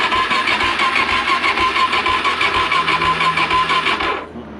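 A Suzuki DRZ400s motorcycle engine catches and runs at a fast, rough idle, loud and close with a steady pulsing throb, then cuts out abruptly near the end as it dies.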